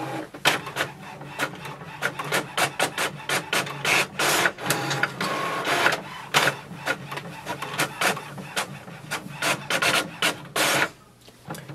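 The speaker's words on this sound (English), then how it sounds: "Click on the print icon and click print button and you will start the printing." An HP OfficeJet Pro 8035 wireless inkjet printer runs a print job, giving a busy, continuous run of rapid mechanical clicks, whirs and rasping carriage strokes close by, with no talking.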